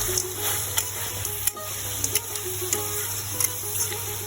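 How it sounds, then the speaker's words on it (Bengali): Duck meat being stirred as it fries in a pan, with a steady soft sizzle broken by repeated scraping and clinking strokes of the utensil, close up and with no talking. "এখন আমি খুব সুন্দর করে নাড়াচাড়া দিয়ে নিচ্ছি"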